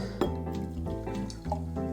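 Tonic water is poured into a cocktail glass for a cherry sage gin and tonic, a short liquid splash with a couple of faint glassy clinks, close and moderately loud, heard alone.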